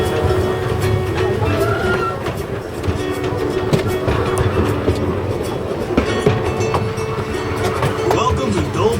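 Steady rumble and rattle of the Pineapple Express, a narrow-gauge tourist train on a 2-mile ride through a working pineapple plantation in Wahiawa, Hawaii, running continuously close by with faint talk underneath.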